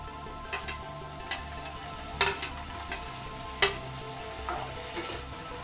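Onions and two tomatoes sautéing in a pan for South Indian cabbage kootu, a soft steady sizzle broken by a few louder stirring scrapes and clinks, with no one talking.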